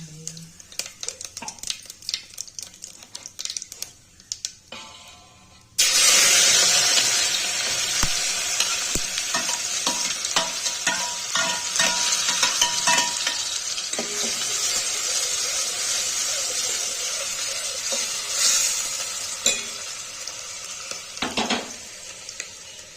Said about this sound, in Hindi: और हमने उसमें डाल दिया है तेल, तो हमारी छुकने लगी है सब्जी।